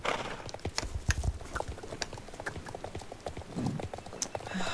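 Horse hooves clop along at a steady, irregular pace as a horse is ridden in the video game Star Stable Online, fairly close and moderately loud, with no talking.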